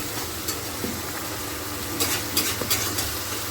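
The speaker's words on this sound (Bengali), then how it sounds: "সবে এখন মশলা কষানো চলছে।" Spices for biryani sizzle and fry in a pan, a steady hiss with a few scraping stirs and light clinks of the spoon toward the end, close by with no talk.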